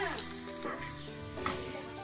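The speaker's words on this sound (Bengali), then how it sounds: "এবার এটা নাড়তে থাকবো যাতে নিচে না বসে যায়।" Coconut mixture being stirred in a pan over a low gas flame for a village-kitchen pithe, with a steady close sizzle and soft scraping strokes throughout.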